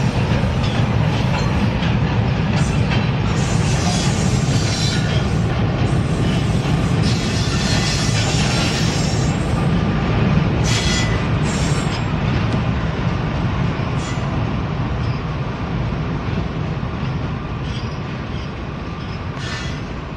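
A freight train with two DPU locomotives on the rear passes close and loud, its rumbling wheels and rail clatter holding steady for twenty seconds and easing slightly at the end.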